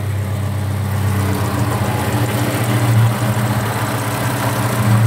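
A 1966 Vauxhall Victor 101 engine idles evenly just after starting, a steady, fairly loud mid-pitched hum with a slight swell partway through.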